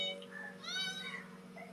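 A cat gives a brief, faint meow with a rising and falling tone in a quiet indoor space.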